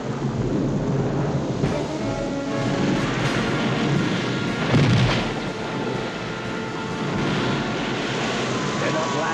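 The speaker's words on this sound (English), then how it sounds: "It's only the thunder." Cartoon thunder rumbles heavily for several seconds and swells to a deep crack midway, under steady rain-like noise, with voices speaking over it.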